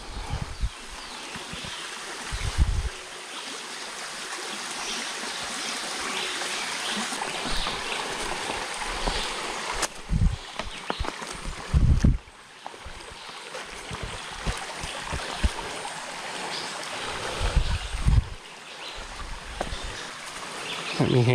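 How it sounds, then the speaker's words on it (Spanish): Clear water pours steadily over a small waterfall in the countryside, a continuous close rushing splash, with brief bumps and faint voices now and then. "Sonido de la cascadita."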